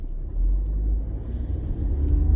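A car being driven on a road, heard from the cabin as a steady low engine and road rumble with slight swells and no talking.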